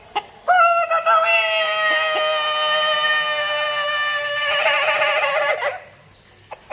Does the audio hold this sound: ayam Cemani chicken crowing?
yes